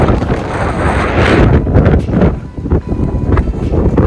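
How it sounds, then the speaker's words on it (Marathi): Strong gusts of wind buffet the microphone on a foggy monsoon hillside path near a temple, producing a loud, continuous rumbling roar that swells and dips throughout. "वारा खूप आहे."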